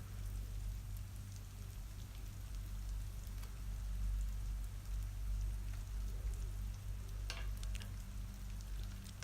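Chicken pieces frying in a pan with onions and turmeric for a pepper chicken dish make a quiet, continuous crackling sizzle over a low steady hum.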